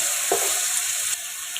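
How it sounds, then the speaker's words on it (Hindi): Chicken frying in a pan for pulao gives a soft, continuous sizzle and crackle, with a brief stir or clatter early on. "यहाँ पे मैं 3 से 4 मिनट इसको करूँगी फ्राई"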